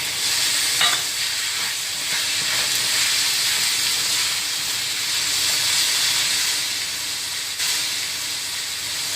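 Meat frying with onions in a pan in a home kitchen, giving a steady loud hiss and sizzle that continues throughout with faint clinks of stirring and no talking.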